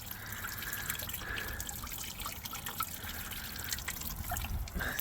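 Hot engine coolant drains from a 1996 Jeep Cherokee, trickling and splashing steadily into a container at close range, with a continuous gurgling flow.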